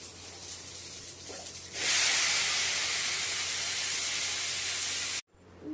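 Small onions hit a hot pan for sautéing, bursting into a loud, steady, close sizzle that holds for a few seconds over a quieter background hiss, then cuts off abruptly.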